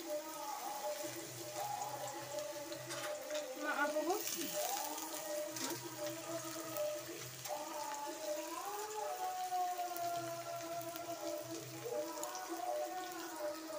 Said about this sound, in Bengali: তেল আমি অল্প করেই দিলাম। গরম হয়ে গেছে, এরপরে একে একে সব উপকরণগুলো আমি দিয়ে দেবো। দেখো আলুগুলো দিয়ে দিলাম।